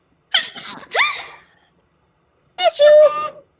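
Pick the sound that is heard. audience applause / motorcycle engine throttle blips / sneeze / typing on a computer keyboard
sneeze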